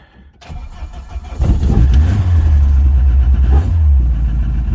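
A modified Vauxhall Corsa engine cranks and fires up after a short pause, then settles into a loud, close, steady idle with a slight rev, with no talking.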